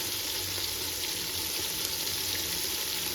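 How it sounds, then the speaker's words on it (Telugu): Coriander and mint frying in oil for chicken dum biryani, giving a steady, dense sizzle with a fine crackle that holds evenly through the whole stretch. No voices are heard. "తర్వాత పుదీనా కూడా వేసి బాగా ఫ్రై చేసుకోవాలి"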